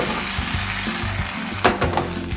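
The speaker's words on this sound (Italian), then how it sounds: "Intanto che il ripieno finisce di rosolare bene" Zucchini stuffing browns in a pan with a steady close sizzle, and a few brief scrapes or stirring clatters come near the end.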